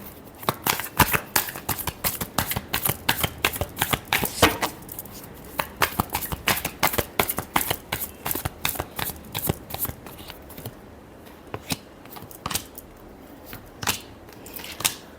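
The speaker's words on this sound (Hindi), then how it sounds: "Last shuffle." Tarot cards shuffled in a rapid, crisp riffling rhythm, close and fairly loud, with a few pauses near the end and no talking.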